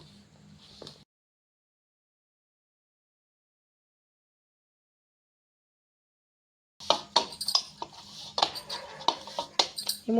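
Maida flour dough with salt, oil and water for aloo paratha is mixed in a bowl, giving busy clinking and scraping of utensil against dish after a long silent gap.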